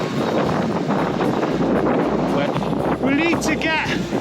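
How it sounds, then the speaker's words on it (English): Strong headwind buffeting the microphone while riding a de-restricted eBike outdoors, a loud continuous low rumble with a voice talking over it near the end. "this is where there's quite a headwind as well"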